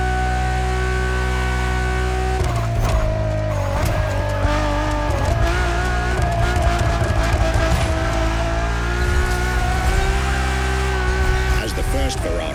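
A Ferrari Enzo supercar drives hard in The Crew Motorfest, its engine droning steadily with rising and falling revs and brief tire squeals, close and loud, with a continuous music bed underneath.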